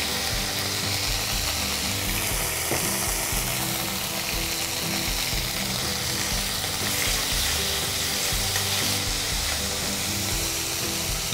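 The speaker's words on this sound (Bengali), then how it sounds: "ফোড়নের পরেই কিন্তু আদা কাঁচা লঙ্কা পেস্ট কড়াইতে চলে গেল" Ginger and green chili paste fries in a wok, a loud continuous sizzle with stirring scrapes running throughout, no one speaking.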